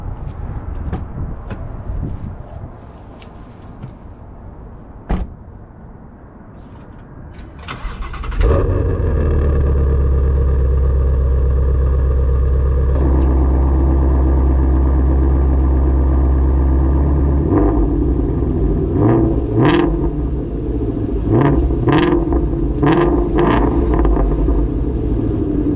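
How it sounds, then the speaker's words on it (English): A 2020 Ford Shelby GT350 fires up after a few quiet seconds of ticks, its engine catching into a loud, close idle with a deep exhaust note, followed by several sharp revs near the end. "Ford, you guys nailed the exhaust note on this."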